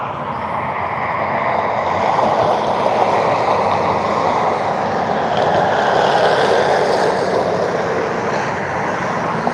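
A Southwest Airlines airplane passes at Cleveland airport with a loud, steady jet roar that fills the whole stretch and swells slightly in the middle, with no voices.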